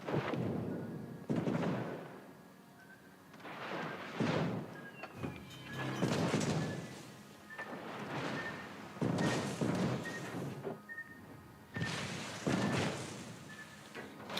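Torpedoes strike a warship in World of Warships: Legends as a run of heavy booming explosions, about seven deep thuds spread through the clip, each rolling out into a rumble over the game's background noise.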